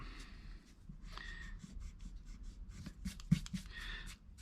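A pencil eraser rubs out a drawn line on a wooden shot board. Quiet, close, scratchy rubbing comes in short, uneven back-and-forth strokes with brief pauses between them.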